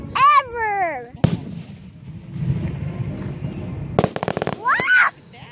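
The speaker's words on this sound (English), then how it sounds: "Lots of fireworks." Fireworks burst outdoors at a nighttime display while a child and family watch. Sharp crackling bangs arrive in clusters and sit between excited voices and whoops of delight that rise above the noise.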